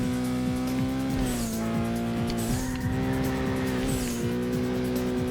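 A turbocharged custom compact race car in Burnout 2: Point of Impact roars at a steady high engine pitch with repeated tire squeals through corners, loud and continuous with no talk.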